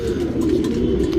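A male Guldar pigeon cooing close by, a continuous low, throaty purr that runs unbroken for just over a second, with no voices.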